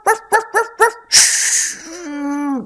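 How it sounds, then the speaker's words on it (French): A dog gives four sharp, evenly spaced barks close by, then a harsh rasping burst, and ends with a drawn-out whining whimper that fades off. "Pourquoi aboies-tu comme ça ?"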